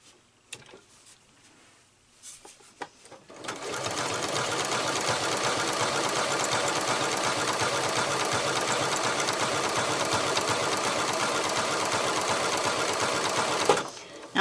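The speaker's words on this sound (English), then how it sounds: "And I'll show you on this fabric here." An Elna Excellence 720 Pro sewing machine stitches fabric, starting after a few soft handling clicks and then running in a fast, steady mechanical whir for about ten seconds before stopping abruptly.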